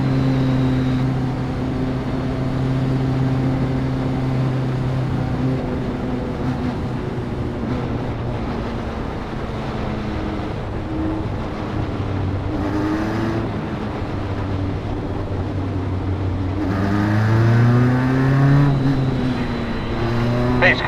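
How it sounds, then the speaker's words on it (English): A pace car and Formula Atlantic single-seater race cars pass at Mid-Ohio during an SCCA club race under caution. Loud, sustained engine drones rise and fall, with a sharper revving car sweeping past near the end. "Pace car coming by"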